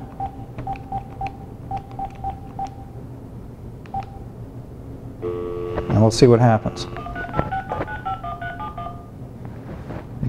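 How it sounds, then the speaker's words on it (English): Telephone keypad dialing tones as a cell phone number is called, a rapid series of short DTMF beeps up close followed by a louder burst of call-connection tones, with someone speaking briefly. "call the cell phone."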